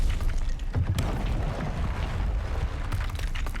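A Confringo blasting curse bursts in Hogwarts Legacy, a dense, loud, rumbling explosion that fills the whole short span with sustained booming noise.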